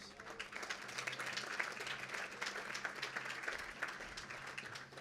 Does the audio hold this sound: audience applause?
yes